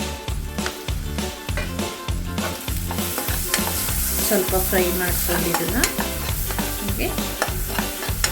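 Spinach (palak) fries in hot oil for a masala egg curry, giving a loud, steady sizzle broken by repeated stirring scrapes, with a rhythmic backing beat underneath.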